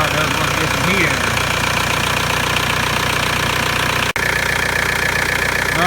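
After a turbo installation, the diesel engine of a 1998 Volkswagen Jetta TDI keeps idling with a steady, close clatter and knocking rhythm, broken only by one very brief dropout near the end.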